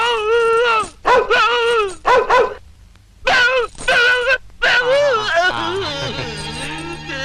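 A man imitates a dog, barking and whimpering loudly in short bursts, followed by a drawn-out groaning cry, in a dramatic film scene.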